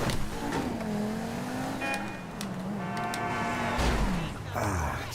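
A car engine drones steadily while driving in the Malmo RP video game, its pitch shifting gently up and down with throttle changes, near and continuous with a brief rise toward the end.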